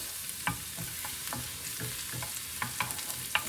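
Garlic frying in a pan for palak paneer sizzles steadily, with a series of sharp stirring scrapes and taps at irregular intervals, close up and with no talking.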